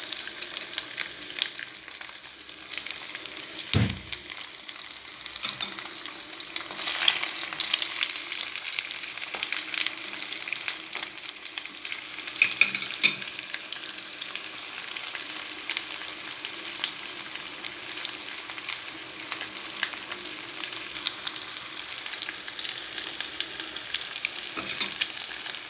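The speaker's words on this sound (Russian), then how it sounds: "Яичница обжаривается на медленном огне." Continuous soft sizzling of five eggs frying in butter with sausage in a pan over low heat, a steady crackle at moderate volume with an occasional faint clink, no voices.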